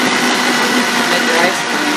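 A Vitamix blender runs at full power blending ice and salt into ice cream, a loud dense steady motor roar that holds without pause.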